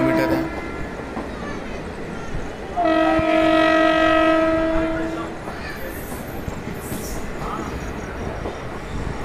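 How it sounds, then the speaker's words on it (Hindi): Passenger train running toward Zamania station in India, a continuous rumble of wheels and carriages with a long horn blast sounding in the middle before the steady rolling noise resumes. "और दोस्तों हमारी ट्रेन जमानिया रेलवे स्टेशन पहुंच रही है।"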